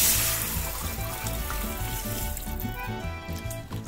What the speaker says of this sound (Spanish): le vamos a poner 2 litros de agua